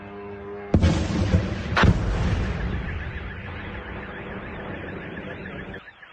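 Air defense fire aimed at drones over a Russian town: two heavy booms burst out in quick succession, and a wailing car alarm sounds over a lingering rumble.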